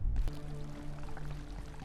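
Water pouring steadily in the Abiotic Factor video game, a continuous splashing flow that fills the short moment alone and fairly close, with no voices over it.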